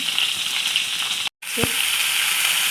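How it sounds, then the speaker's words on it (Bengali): Steady oily sizzling of carrots and potatoes frying in a pan, with a brief silent gap and a soft stir or scrape afterward. "আগে গাজর ডাটা আলু দিয়ে দিলাম মানে ভাজতে একটু টাইম লাগে"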